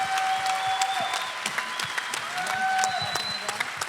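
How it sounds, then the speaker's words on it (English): Steady crowd applause at a live podcast wrap-up event, held at a moderate level throughout, with a faint tone and some voices mixed underneath. "Can we get a big round of applause for these guys and for everyone?"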